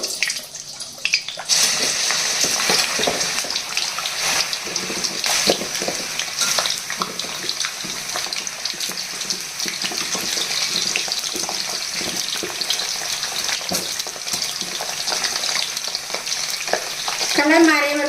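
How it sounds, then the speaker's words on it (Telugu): Gooseberries (amla) dropped one by one into hot oil in a kadai, a steady crackling sizzle with stirring and splashy bubbling, sustained for the whole stretch with no talking. "కళాయి పెట్టి కళాయిలో ఆయిల్ వేసానండి వేడైందండి ఇప్పుడు ఒక్కొక్కటిగా జాగ్రత్తగా ఈ నూనెలోకి ఇవి ఉసిరికాయలు వేసేసుకోవాలి"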